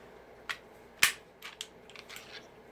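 A FMK 9C1 G2 pistol, unloaded, is taken apart like a Glock, giving a few sharp metallic clicks and snaps: one loud crisp snap, with lighter clicks before and after and no talk.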